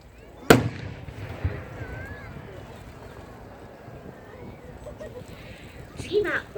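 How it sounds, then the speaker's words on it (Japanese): Blue and thick silver fireworks at the Miyazaki seaside art fireworks show, one sharp loud burst near the start followed by softer crackling and a rumbling outdoor crowd background, with a few more pops toward the end. "銀色の太い色と青色の花火を組み合わせた花火です。"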